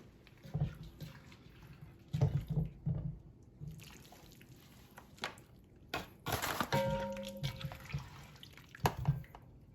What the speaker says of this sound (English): we want to get some of that liquid in there as well, because that liquid is just going to go right in